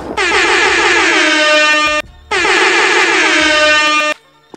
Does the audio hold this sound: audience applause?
no